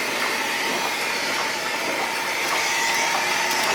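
A Comadis metal tube filling machine with a hopper, pneumatic cleaner and piston filling station runs steadily nearby as a dense, continuous mechanical whir and hiss with faint ticking, and no one speaks.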